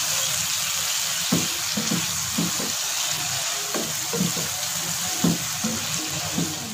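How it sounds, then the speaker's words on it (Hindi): Chicken pasta frying in sauce in a pan, a steady sizzling hiss with occasional soft clicks of stirring, close and continuous with no talk. "सॉस के साथ 1 मिनट के लिए हम भून लेंगे"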